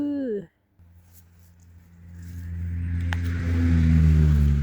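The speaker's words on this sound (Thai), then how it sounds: "ใกล้ถนนนะคะ มีเสียงรถหน่อย เสียงรถเยอะแยะคนกำลังจะเลิกงาน" A voice briefly, then a vehicle engine approaches and grows louder, a steady rising drone of busy rush-hour traffic passing on a nearby road.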